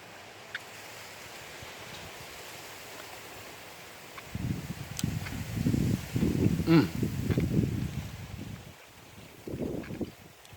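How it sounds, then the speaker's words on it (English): Strong wind gusts outdoors, first a steady low hiss, then loud rumbling buffeting against the microphone from midway on that swells and fades in waves. "I don't know if you can hear all the wind. There's a lot of wind on the side."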